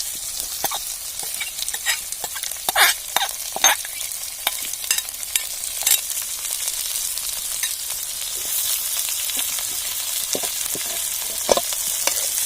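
Sliced onion, green chilli and curry leaves fry for a Kerala egg roast, giving a continuous bright sizzle with scattered spatula scrapes and taps, close and steady, no voices.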